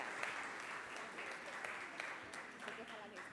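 Applause from an audience at an innovation challenge event, a steady patter of many hands clapping, faint and distant, with speech mixed in.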